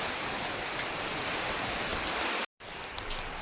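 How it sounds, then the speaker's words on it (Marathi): Steady rain pours down in an even, dense hiss, broken once by a brief moment of silence before it resumes. "मी घरी आल्यानंतर पाऊस आलाय"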